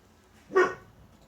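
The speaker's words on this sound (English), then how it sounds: "Bork, bork, says the doggy dog." A single short dog bark rings out once in a quiet indoor room during a crafting session, brief and moderately close, with silence before and after.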